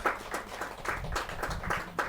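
Short burst of audience clapping at a Hindi poetry gathering, a brisk uneven run of individual claps, moderately close, without any talking.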